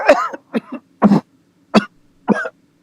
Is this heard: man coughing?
yes